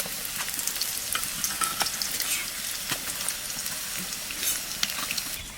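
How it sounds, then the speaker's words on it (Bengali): Mutton pieces frying in a pan for kala bhuna, a steady dense sizzle with small crackles and occasional stirring scrapes throughout, close and alone with no talk. "এইবার মাংস দিয়ে দেবো।"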